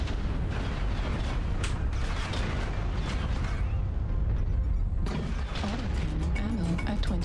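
The Stone Rhino mech in a mech combat video game fires a big-gun ballistic barrage: loud, continuous overlapping booms and heavy rumbling blasts that fill the whole stretch without a break.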